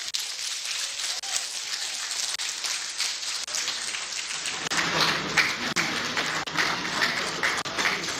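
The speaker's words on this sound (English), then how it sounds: "Please come and make the applause a bit louder for the Honorable Minister of Power." Audience applause for the Honorable Minister of Power at a ministerial press briefing, steady dense clapping throughout that swells louder midway and stays sustained to the end.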